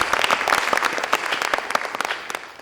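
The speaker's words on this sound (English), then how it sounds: "I think it deserves a round of applause" A crowd claps, a dense burst of applause with many overlapping hand claps, fairly close and sustained throughout.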